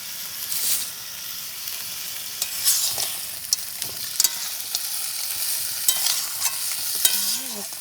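Crab cooks with taro greens and potato in a hot pan, giving a continuous close sizzle with scattered sharp taps and scrapes as the mixture is stirred, and no one speaks.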